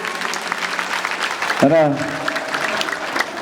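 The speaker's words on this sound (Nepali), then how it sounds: "जोरदार तालीले स्वागत गर्नुहोस्।" An audience at a stage event claps in a sustained round of applause to welcome a speaker, the clapping steady and moderately loud, with a brief spoken sound cutting in partway through.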